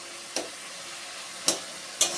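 Onion and spice paste frying for a shrimp and cabbage curry, a faint low sizzle broken by three sharp spoon-against-pan scrapes spaced irregularly, no talking.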